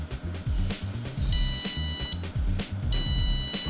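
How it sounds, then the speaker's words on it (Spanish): A desktop PC with a memory fault gives long BIOS POST beeps at startup, two sustained high-pitched electronic tones that each last under a second, heard over low rhythmic background noise. "Ahí tenemos un bip largo."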